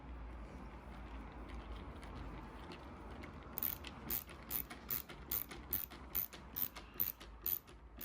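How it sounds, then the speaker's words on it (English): A ratcheting screwdriver drives screws into wood in a woodworking shop, giving a series of quick, close clicking bursts in a steady rhythm after a quiet start. "I'm just using a ratcheting screwdriver here."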